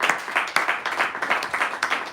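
Audience applause in a room at a Nigerian anti-cultism declaration event, a loud burst of clapping with uneven swells and sharp peaks throughout, no talking.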